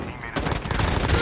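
Rapid, dense gunfire from a shotgun in the mobile shooter Call of Duty Mobile, battle royale mode, sounds as a loud, continuous burst of shots lasting just over a second.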